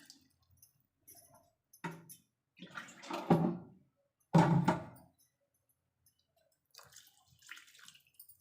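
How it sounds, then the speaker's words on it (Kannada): Water is poured into a cooking pot in a few short, splashing bursts close by, with quiet pauses between them. "ಈಗ 2 ಗ್ಲಾಸ್ ನೀರ ಹಾಕ್ತಾಯಿದ್ದೀನಿ"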